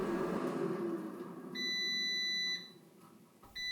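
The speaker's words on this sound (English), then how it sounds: "Once it's done, the air fryer beeps 3 times." Cosori Air Fryer MAX XL signalling it has finished cooking, sounding a steady electronic beep about a second long, then a short second beep, clear over a faint background hum.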